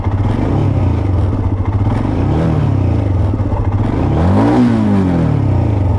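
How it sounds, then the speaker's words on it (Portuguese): A Royal Enfield Himalayan 411 single-cylinder motorcycle idles close by with a loud, lumpy exhaust note, then is revved twice, the pitch rising and falling with each blip. "Eu acho que esta moto tem um escape espetacular."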